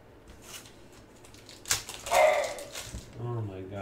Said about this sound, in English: Oh my gosh, this dog's been crazy